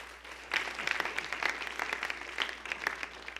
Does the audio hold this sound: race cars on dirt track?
no